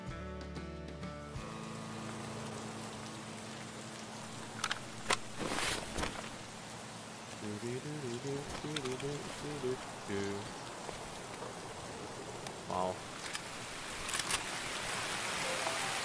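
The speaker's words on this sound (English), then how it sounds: "Oh, that rain." Steady rain hisses through a video game scene, with a short exclaiming voice, scattered thumps and a brief run of tonal beeps partway through.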